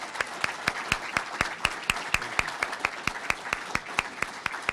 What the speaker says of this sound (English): May we have a round of applause for both of these candidates?